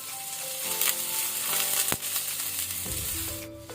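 Onions fry over a medium flame in a pan with spice masala, a steady close sizzle with occasional spatula scrapes and a sharp clack near the middle, with no talking.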